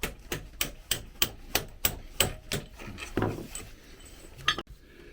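A hammer strikes a punch on the rear lowering link of a 2021 Honda CRF300L motorcycle, about a dozen sharp metallic taps at a steady rhythm that slow and soften toward the end, close by with no talking.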